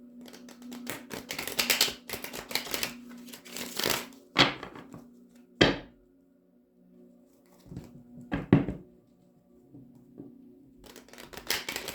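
Tarot cards are shuffled in brisk riffling bursts, followed by a few sharp slaps and taps as the deck is cut and handled, with a low hum underneath.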